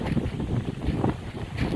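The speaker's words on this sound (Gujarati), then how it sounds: "જોઈ લ્યો પવન આના વાળ ઉડે ઉપરથી" Gusting wind outdoors near a large temple, a steady broad rush with microphone buffeting throughout and no talking.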